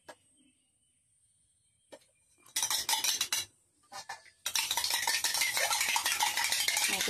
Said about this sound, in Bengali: ডিম ফাটানো হচ্ছে